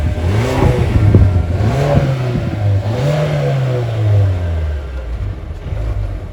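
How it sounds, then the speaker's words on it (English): A 2020 Mercedes GLA 250 engine revs at low RPM with a sporty note, its pitch rising and falling through several swells over a steady, close, continuous drone, with no talking. "you hear that it's very sporty, low RPM. Really enjoy that sound for a normal GLA 250."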